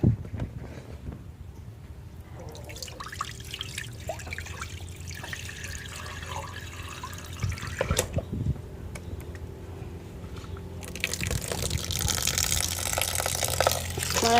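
Glutinous rice is washed and soaked in water, with faint trickling and sloshing close by and a louder splashing burst toward the end.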